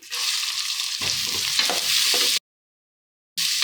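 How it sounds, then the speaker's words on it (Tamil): Finely chopped onions, three large ones added with curry leaves to a pan for a Tamil chicken kulambu, sizzle loudly as they are stirred with audible scraping, then cut off abruptly to silence before the frying resumes. "இந்த வெங்காயம் நல்லா வதங்குற வரை நல்லா வதக்கி எடுத்துக்குவோம்."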